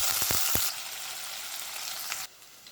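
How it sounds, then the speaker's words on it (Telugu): Chopped onion, cumin and mustard seeds fry in oil in a pot, a dense hiss with a few quick taps early on, then the sizzle continues before dropping sharply quieter near the end. "జీలకర్ర ఆవాలు కూడా వేసుకోవాలి. తరిగిన ఉల్లిగడ్డ,"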